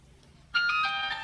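A mobile phone ringtone starts abruptly, a bright electronic melody of steady tones at moderate volume, heard alone over quiet room noise.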